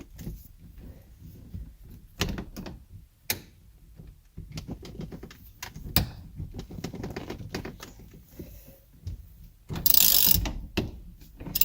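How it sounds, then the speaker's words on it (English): A ratchet wrench clicks away at the 24 mm steering wheel nut on a Porsche 944, bursts of quick pawl clicks in uneven spurts, close and moderately quiet. "we're going to want to remove the 24 millimeter nut and washer"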